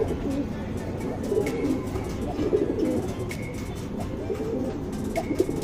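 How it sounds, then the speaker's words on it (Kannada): A Dasta pigeon coos softly nearby in a repeated low, throaty rhythm, with faint chirps and other birds in the background. "ಇದು ಒಂದು ದಸ್ತದ ಅಕ್ಕಿ."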